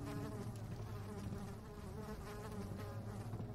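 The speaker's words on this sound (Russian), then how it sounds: "Мухи говняные летают." Flies buzz continuously in a dark, grimy dungeon area of Amnesia: The Dark Descent, a faint, steady insect drone with no talking over it.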